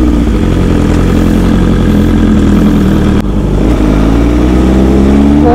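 A KTM motorcycle races with its engine roaring loud and close without a break, the pitch revving and climbing under acceleration as it holds high speed on the road.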